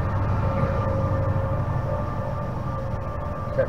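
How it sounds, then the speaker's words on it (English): A steady low rumble and rolling clatter of a passing train fills the whole stretch, with faint tonal whines above, fairly distant and continuous. "That's a train going by,"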